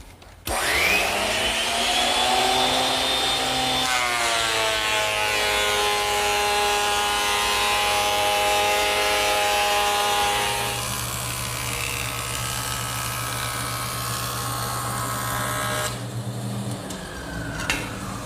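A surface planer spins up to a loud whine and chews through a board, its vacuum chute roaring steadily as chips are drawn away, then the machine winds down after a long continuous run.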